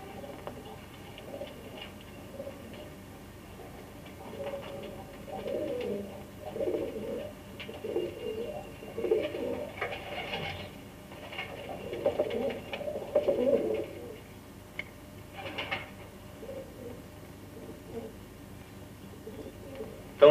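Racing pigeons coo in soft, repeated murmurs around a pigeon loft, a steady low burble of several birds close by with light fluttering and patter mixed in, and no speech.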